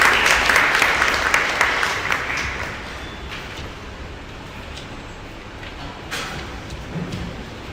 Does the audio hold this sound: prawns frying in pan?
no